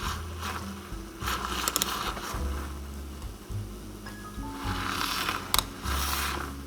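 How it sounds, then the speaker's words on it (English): A handheld frother whirs as it froths Javvy coffee in a blending cup, buzzy motor bursts starting and stopping with some rattling clicks, close and fairly quiet. "All right, we got 1 scoop, and let's froth it."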